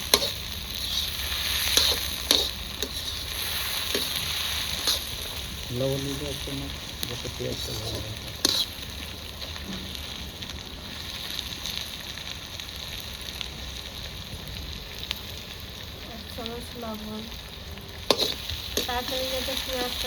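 Food frying in a pan for a village-style fish curry with potato and aubergine, a steady close sizzle running throughout with occasional stirring scrapes and a few brief spoken words over it.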